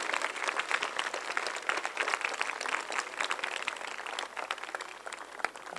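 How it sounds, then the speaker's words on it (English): An audience claps at a school annual concert, dense and continuous applause that stays fairly even, then thins slightly toward the end, with no speech over it. "Let's clap for the people behind the performers"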